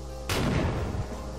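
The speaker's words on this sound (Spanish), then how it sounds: "Y la última granada" A single grenade blast in the Brutal Wolfenstein 3D game, with a sharp onset and a loud, broad boom that rumbles for most of a second before fading out, with no talking.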